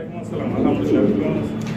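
Fancy pigeons in a loft coo in low, soft, repeated murmurs close by, blending under a person talking.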